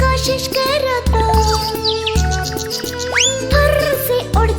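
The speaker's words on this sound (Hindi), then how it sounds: "फुर्र से उड़ जाती चिड़िया।" Cheerful bird chirps and a rising whistle-like tweet sound over bouncy music in a Hindi nursery rhyme, where a sparrow flits off after drinking water; the calls repeat in quick bursts throughout, mixed with the song's melody.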